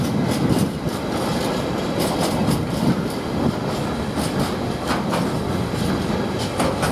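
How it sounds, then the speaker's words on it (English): A Greater Anglia passenger train departing Ely station toward Stansted Airport, a loud steady rumble of wheels on rail with repeated clickety-clack beats as carriages roll past close by. "Now the Great Anglia train is now departing, going towards Stansted Airport."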